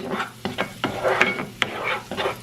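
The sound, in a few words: garlic and red pepper flakes sautéing in a pan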